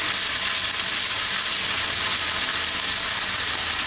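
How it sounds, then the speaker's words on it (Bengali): Chicken pieces frying in a pan for Bangladeshi-style dragon chicken, giving a steady, loud, unbroken sizzle with no pause or talk throughout. "এটাকে একটু ভেজে নিব।"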